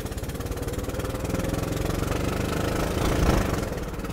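A used Range Rover engine runs hard at full throttle, a loud, steady, rumbling drone that swells slightly toward the end, heard up close with no talking.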